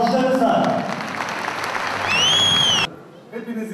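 Crowd applause at a Turkish CHP party rally as an MP is welcomed, loud and dense amid cheering voices and a whistle, cutting off sharply before a speaking voice emerges at the end.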